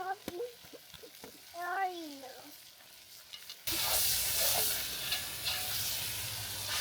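Meat drops into a pan over a campfire in Alaska and starts a loud, steady sizzle that hisses on without a break, after a quieter stretch with a voice and some bird-like chirps.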